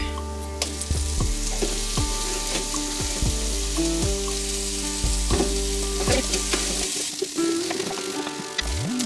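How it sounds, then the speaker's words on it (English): Onions and garlic sauteing in a pan, with a steady loud sizzle and repeated scraping stir strokes throughout, then a quieter, thinner fry near the end. "we get the onions and garlic sauteing"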